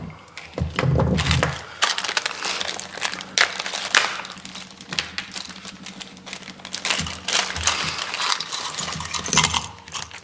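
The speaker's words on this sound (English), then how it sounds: "we can open up our kit and have a look at what's inside" Plastic packaging of an electronics kit bag crinkles and rustles up close, with irregular handling clicks and crackles as the bag is opened and parts shift inside.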